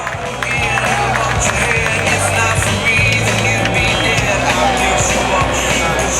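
Dense crowd applause and cheering carry on steadily throughout, over a rough rumbling background noise.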